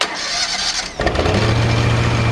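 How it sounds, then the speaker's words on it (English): A Marine 3047 burner engine cranks briefly, then catches and starts, settling into a loud, steady running drone close by. "to start everything to the right, throttle a little bit to the left, choke all the way to the left, crank, open"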